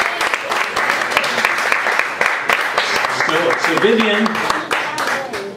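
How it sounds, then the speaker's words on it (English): An audience at a talent show applauds a performer named Vivian: dense, lively clapping throughout, with a few voices and a brief spoken word cutting in over the noise. "A big round of applause for Vivian."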